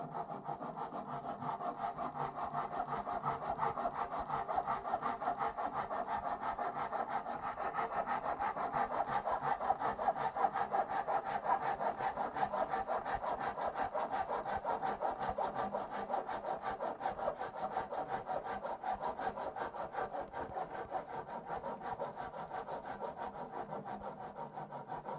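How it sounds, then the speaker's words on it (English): A Dozuki Japanese pull saw cuts through wood along a marked line while a giant block tower game is being built, giving a steady, continuous rasping stroke sound at close range, alone and fairly even in level throughout. "So I'm going to use the Dozuki and just cut just on the line there."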